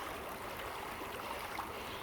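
Steady broadband rush of the Liangshui River flowing past close by, an even wash of moving water that holds constant without breaks or voices.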